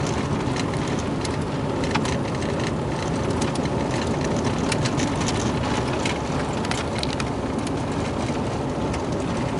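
Interior of a 1989 Oldsmobile 88 Royal driving down the road, a steady, dense road and engine rumble with wind and tire noise and faint ticks, continuous and fairly loud, with no talking.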